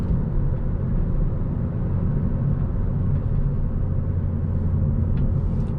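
A 2021 Hyundai Elantra N Line with a six-speed manual gives a steady, muted exhaust and engine drone from inside the cabin while driving, with constant low road rumble and little change in pitch throughout.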